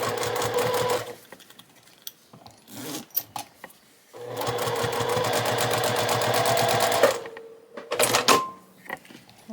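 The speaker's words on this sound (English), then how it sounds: "Let's go ahead and top stitch this down" A sewing machine top stitching a zipper pouch runs in two long bursts of rapid, even needle chatter, separated by quiet pauses and a few handling clicks.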